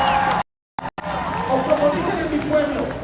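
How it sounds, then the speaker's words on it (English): Outdoor May Day workers' rights and immigration protest crowd at the Minnesota State Capitol in St. Paul, a steady dense murmur of many voices with scattered shouts, briefly cut out near the start, then continuing at moderate level. "Protest crowd behind me at the Capitol"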